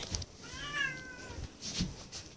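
A cat perched on a person's shoulder lets out a single soft, rising meow, close but quiet, amid faint rustling and handling noises.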